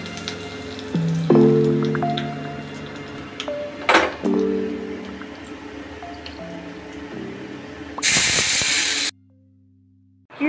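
Whole coriander, dry red chilies and curry leaves sizzle in hot oil for a tadka, with soft bubbling and utensil clinks, then a loud burst of sizzling near the end before it cuts off.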